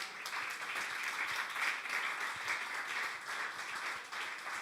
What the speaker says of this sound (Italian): Riceviamo Ines con un applauso a Gesù.